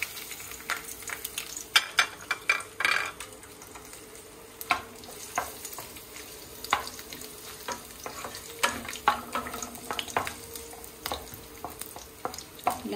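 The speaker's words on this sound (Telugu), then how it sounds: "ఫస్ట్ నేను ఆయిల్లో వెల్లుల్లిపాయలు వేసేస్తున్నాను" Garlic halves fry in hot coconut oil, giving a soft steady sizzle broken by frequent sharp pops and crackles and occasional stirring clinks.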